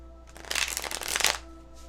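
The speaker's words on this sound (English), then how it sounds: "And then get a couple of clarifying cards" Tarot cards being shuffled by hand, a quick riffling flutter of paper cards that swells in the middle and fades out, close and fairly quiet, heard alone over a faint low hum.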